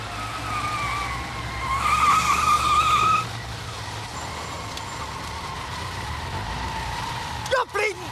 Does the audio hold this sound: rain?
no